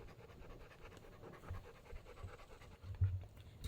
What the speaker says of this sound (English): you know that Theo was my grandparents' dog